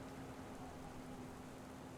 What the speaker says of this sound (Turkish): Arkadaşlar yağmur yağıyor.